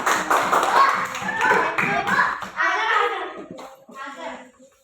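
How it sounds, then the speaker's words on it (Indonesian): Elementary school pupils in a classroom clap together in quick, bright bursts, close by, mixed with children's voices chattering over and between the claps. "Tepuk tangan untuk Zafira."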